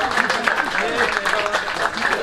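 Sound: audience applause for quiz team

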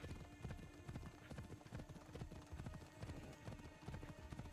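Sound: horse hooves, from video game Assassin's Creed Odyssey

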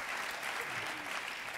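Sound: audience applause at film festival Q&A

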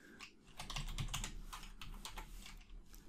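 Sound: typing on a computer keyboard

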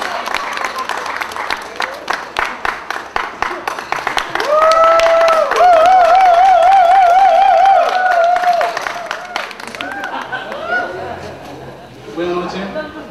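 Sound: wedding guests applauding

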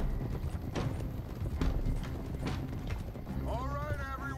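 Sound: horse hooves in video game Red Dead Redemption II

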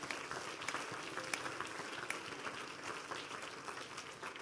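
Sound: congregation clapping hands

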